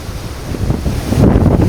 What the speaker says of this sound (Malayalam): കാറ്റ് കൂടി മഴയും കൂടി